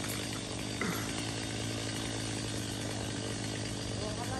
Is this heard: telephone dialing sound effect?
no